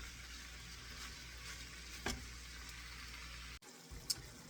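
Ground beef seasoned with garlic powder browns in a pan with a steady, faint sizzle that holds throughout, broken by one brief clatter and a short cut near the end.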